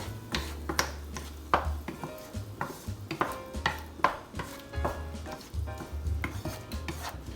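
Sautéed vegetables and sauce for quesadillas being stirred in a pan, a steady run of scraping, clacking utensil strokes over a low sizzle, close and moderately loud with no talking.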